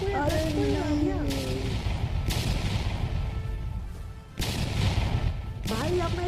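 Explosion blowing up a stash of drugs, heard as repeated loud booming blasts with gunfire-like cracks, sustained and near, with voices speaking over parts of it.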